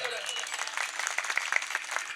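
A kirtan audience claps along loudly and steadily in a dense, continuous patter of many hands, with singing and mridang accompaniment blending underneath.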